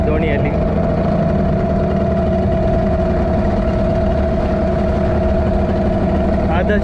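A fishing boat's engine drones steadily and loudly throughout while speed trolling for grouper near rocks, a constant mid-pitched rumble with no breaks.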